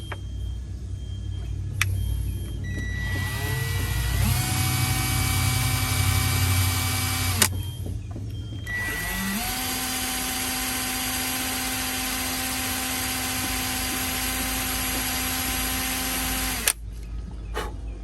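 Power drill spinning in reverse to bore a small pilot hole for a folding cup holder on a boat, a sustained whine that starts, pauses briefly, then runs steadily for several seconds before cutting off, close up.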